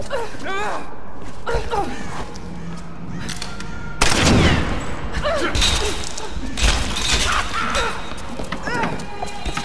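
In a video game, gunfire rings out amid a busy soundscape, with a burst of loud shots and thuds building from the midpoint, all over game music and overlapping voices.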